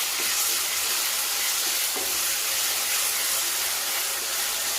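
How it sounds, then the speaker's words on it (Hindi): Minced meat keema sizzles with ginger garlic paste in a pan, a dense, loud, continuous frying hiss with faint stirring knocks, steady throughout and close. "अब तकरीबन इसमें 2 चम्मच अदरक लहसुन के पेस्ट डाल दीजिए। हल्का सा इसको भून"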